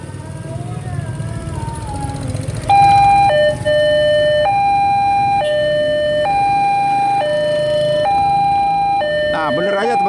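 A Siemens railway level crossing alarm at JPL 91 in Indonesia sounds a loud, repeating two-tone electronic chime that alternates steadily over street ambience and a faint rumble, with a brief rising whine before it starts.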